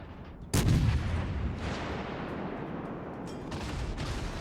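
A big naval gun salvo booms out in World of Warships: Legends, a sudden loud blast followed by a long rumbling decay under steady battle ambience, with another swell of rumble near the end.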